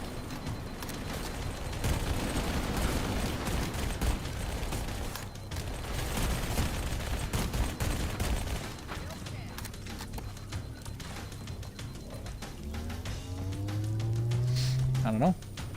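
SMG bursts crackle in rapid, dense fire during Halo campaign gameplay, with busy game effects throughout and a person talking over the action.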